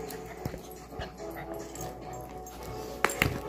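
Dogs whimper and yip in short bursts close by, with a brief sharper bark near the end.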